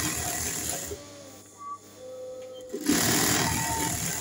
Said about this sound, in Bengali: দেখো আমি পুরোটা কিন্তু একদম আস্তে আস্তে সেলাইটা করে নিচ্ছি।